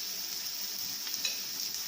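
Onions soften in a frying pan with garlic and ginger paste for spiced chickpea bhuna, giving a steady, even sizzle and light stirring close by, with no talking.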